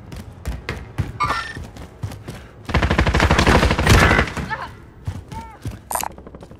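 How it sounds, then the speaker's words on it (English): Rapid bursts of assault rifle fire in Call of Duty Modern Warfare, loud and dense for about a second and a half mid-clip, with scattered thuds and mechanical clicks around it and voices talking over parts. "Assault rifle."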